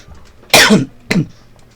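Two sharp coughs close to the microphone, the first louder and longer, the second shorter a half second later, then quiet.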